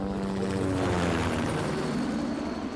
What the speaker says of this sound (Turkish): helikopter uçtu. Yukarıda.